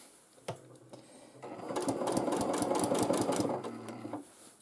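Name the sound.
sewing machine free motion quilting stitching lines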